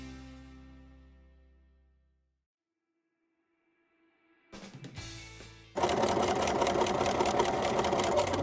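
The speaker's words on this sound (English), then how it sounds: "we sew forward again at a 1/4 inch seam allowance the entire way down, removing the pins as we come to them" A sewing machine stitches the side seam of a drawstring bag at a quarter-inch allowance, starting after a quiet pause and settling into a fast, steady, close mechanical chatter.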